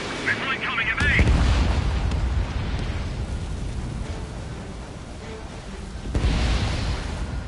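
Missile explosions and gunfire rumble in Ace Combat 7: Skies Unknown, heavy booming blasts with a dense low roar throughout, swelling near the start and again toward the end, with radio voices and cockpit chatter in the mix.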